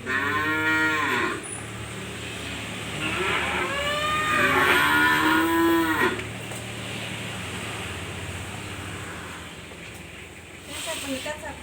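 A cow moos during a livestock health check, several long, loud, drawn-out calls close by over the first half, then quieter background noise with brief rustling near the end.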